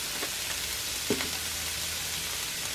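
Keto flourless pizza base frying in a pan on high heat gives a steady, close, quiet sizzle throughout, with a faint tap near the middle.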